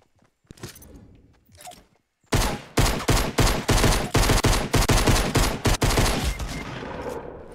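Rapid heavy shotgun blasts in Fortnite Battle Royale, a dense, loud burst of repeated sharp shots after a few quieter sounds, continuing almost without pause.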